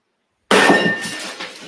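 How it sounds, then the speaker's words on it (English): A glass thrown and smashing, one sudden loud crash out of silence followed by a short scatter of tinkling shards, close and alone. "There, he threw the glass."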